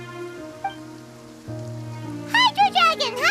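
Steady rain falls in the video game Genshin Impact, a constant hiss running under sustained music tones, with a bright chirpy character voice breaking in near the end.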